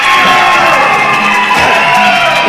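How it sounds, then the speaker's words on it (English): A wrestling crowd cheers and shouts wildly at a live event, forming a loud, dense, continuous roar that never lets up. "And the crowd is going crazy right now!"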